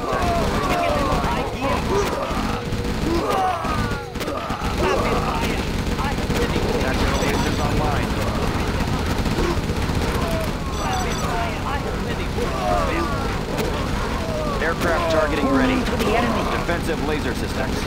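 Rapid gunfire in Command & Conquer: Generals Zero Hour: dense, continuous bursts of shots and blasts amid battle noise, with unit voice lines speaking over the din.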